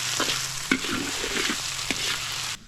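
A stir fry browning in a pan sizzles steadily up close, broken by a couple of sharp utensil knocks and scraping stirs.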